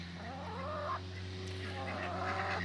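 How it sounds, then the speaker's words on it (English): Chickens cluck and murmur nearby, a few rising and falling calls over a steady low hum, fairly quiet. "Chickens are very curious what you're doing out here."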